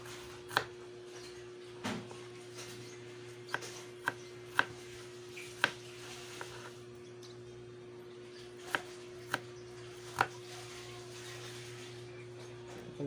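A red onion being chopped on a board, about a dozen sharp knife taps at irregular intervals, close but quiet over a steady low electrical hum.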